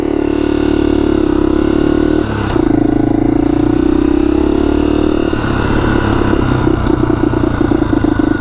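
A 1982 Honda XL250R motorcycle engine runs steadily close by with the choke out, its low thrumming drone shifting after a brief pause into a rougher, pulsing note as the bike pulls away.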